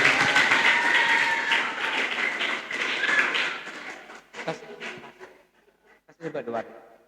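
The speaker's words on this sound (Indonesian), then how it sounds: "tepuk tangan dulu" Audience claps loudly at a police anti-drug outreach session for several seconds, then tapers off into scattered claps and brief talk.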